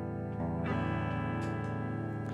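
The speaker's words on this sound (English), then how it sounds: "make a little noise on the guitar" An electric guitar plugged into an audio interface sounds out sustained notes. A new chord is struck partway through and rings on steadily and fairly loud with a bright, slightly processed tone.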